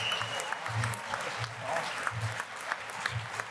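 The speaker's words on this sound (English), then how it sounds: "Let's give him a round of applause, man." Applause from the audience at a keynote panel session of the Oxford House World Convention, a steady broadband wash of many hands that continues throughout with a voice faintly heard beneath it.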